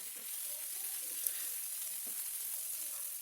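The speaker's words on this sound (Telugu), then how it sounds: "అల్లం వెల్లుల్లి పచ్చివాసన పోయేంత వరకు వేయించుకోవాలండి" Ginger garlic paste fries in oil for a beans curry, giving a steady bright sizzle with occasional soft stirring scrapes, close and continuous.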